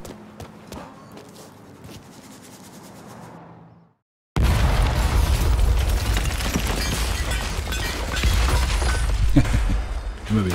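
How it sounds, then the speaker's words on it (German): An explosion in the video game Mafia III comes after a short gap in quieter game sound. It erupts as a loud, dense burst and then rumbles on with crackling debris for several seconds. "Ich liebe Explosionen."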